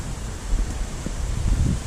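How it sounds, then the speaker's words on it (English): Steady wind buffets the microphone beside a pond with a low, continuous rumble and occasional gusts, no voices present. "This wind is starting to pick up a little bit"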